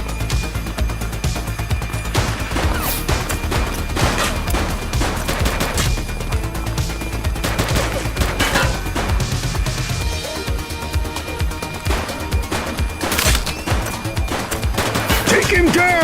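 Gunfire rings out in a shootout in The Precinct, repeated loud bursts of rapid automatic shots and single cracks in clusters throughout, with shouting voices mixed in.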